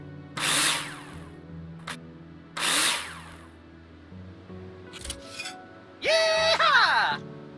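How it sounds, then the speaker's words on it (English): A power drill in the Builder Simulator video game drives screws into wall profiles: several short whirring bursts separated by pauses, the last one longer and rising in pitch, loud and close with no speech over it. "Now place them in the holograms and screw them in with a drill."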